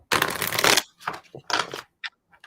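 Tarot cards being shuffled up close: a long riffling burst followed by several shorter flicks and taps, each louder at first, then fading.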